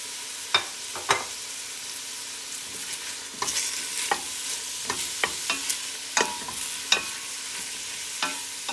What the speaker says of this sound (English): We're gonna add our meat to fry up a little.